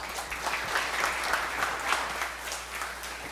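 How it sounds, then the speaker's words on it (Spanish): An audience at a JavaScript developer talk in Medellín claps steadily, a dense, even round of applause that carries on throughout. "Un aplauso"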